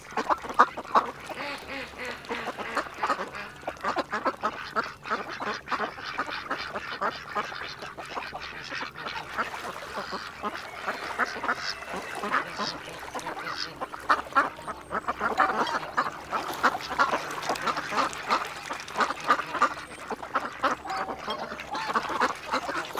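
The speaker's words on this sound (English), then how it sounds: "the ducks are having a great time" A flock of ducks quacks continuously on a farm during winter chores, a dense chattering chorus of quacks and honks that runs steadily from start to finish with no pauses.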